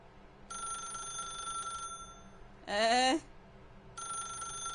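A telephone rings in The Stanley Parable video game, sounding as two long, steady electronic ring bursts with a separate pitched tone between them.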